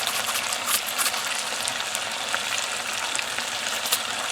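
Red pepper flakes stirred into a sizzling pan of food for a BBQ beef sandwich, a soft, steady frying hiss with small scattered pops and scraping from the stirring, close by with no voices.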